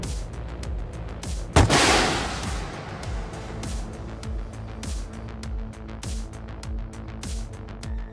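A modded Bradley's 50mm autocannon in Gunner HEAT PC pounds out a steady rhythm of heavy shots, with one especially loud, booming blast early on and the remaining rounds following at a regular pace.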